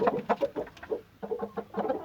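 An upright, tall Aseel Indian game rooster, blind in one eye, gives a series of short, close clucks in quick uneven bursts, with a brief pause midway.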